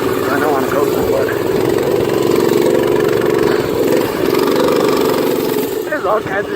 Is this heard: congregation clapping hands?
no